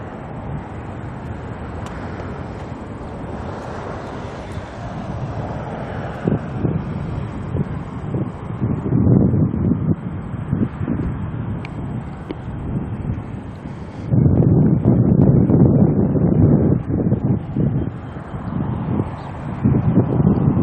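Gusty wind at Auckland Airport buffets the microphone, a steady roaring rumble that swells and surges, louder in the second half, with faint distant aircraft and traffic sound buried beneath.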